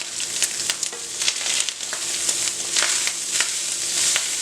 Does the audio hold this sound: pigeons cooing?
no